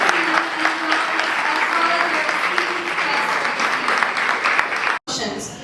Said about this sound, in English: Could we please once again have a huge round of applause